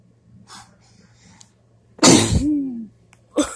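A single loud, sudden sneeze bursts out close by after quiet breathing, followed by a trailing vocal exhale and a short sniff.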